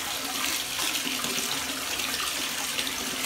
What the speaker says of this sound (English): You're washing your feet really good.